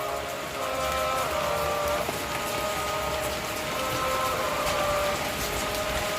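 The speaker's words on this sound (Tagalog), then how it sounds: "Malakas ng hangin dito at" Heavy rain pours steadily during Typhoon Uwan in Camarines Sur, a dense continuous hiss with a faint tonal hum, heard close with no talking.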